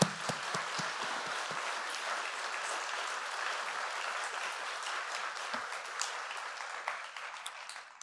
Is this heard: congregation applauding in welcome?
yes